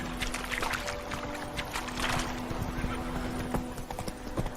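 Roach the horse galloping in The Witcher 3, a steady rapid clip-clop of hooves running throughout, with a constant low hum underneath and a brief voice.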